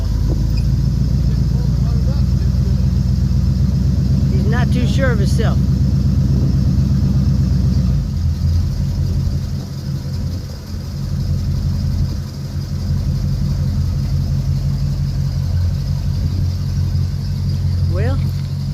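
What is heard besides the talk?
loud 1966 Ford truck engine rumbling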